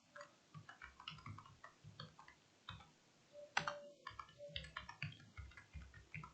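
Password keys tapped on a computer keyboard, a run of quick, light clicks in an uneven rhythm, close and fairly quiet, with no talking.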